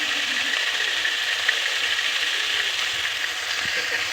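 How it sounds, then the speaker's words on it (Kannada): Ginger and garlic fry in a pan for a paneer and pea masala, giving a steady, even sizzle that holds close and constant throughout with no voices. "ನೀಟಾಗಿ ಫ್ರೈ ಮಾಡ್ಕೋಬೇಕು ಅದು ಹಸಿ ಸ್ಮೆಲ್ ಹೋಗೋವರೆಗೂ ಸ್ವಲ್ಪ ಕಾಯಿ ಇದನ್ನು ಚೆನ್ನಾಗಿ ಫ್ರೈ ಮಾಡ್ಕೋಬೇಕು"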